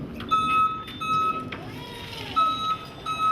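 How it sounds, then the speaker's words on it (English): An Aichi SV1930C electric scissor lift with AC drive gives steady, moderately loud motion alarm beeps in repeated bursts, with a quiet hum and faint voices behind them. "if it wasn't for the motion alarm, our noise of operation is very low, extremely low"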